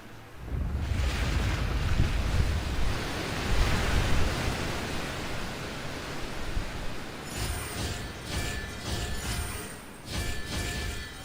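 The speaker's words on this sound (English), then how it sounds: "The water's flowed into the groove, and now the statues have lit up." Water flows along a groove in a video game puzzle: a loud, steady broadband rush that softens partway through, then gives way to faint chiming tones.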